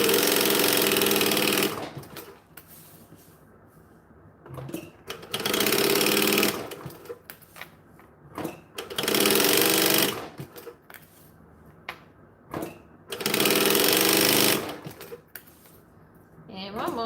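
A sewing machine quilting fabric runs in four loud, rapid stitching bursts of about two seconds each, separated by quieter gaps with small handling noises.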